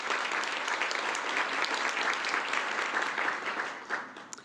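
A crowd claps steadily for several seconds at a college occupational therapy graduation ceremony, dense and continuous, then the applause thins out and tapers toward the end.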